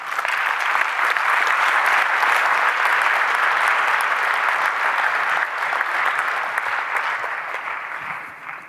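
Loud, sustained applause from a large conference audience at an opening ceremony, a dense unbroken wash of clapping that holds steady for several seconds before starting to fade at the end.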